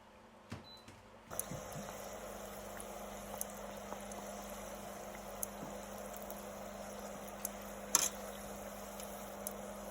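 Peach hand pies fry in hot oil, giving a steady low bubbling hiss that runs throughout, with a few faint clicks and one sharper tap near the end and no voices.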